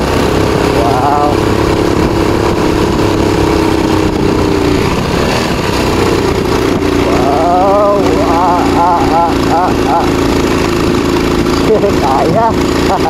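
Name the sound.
DL Rossi 150 motorcycle engine running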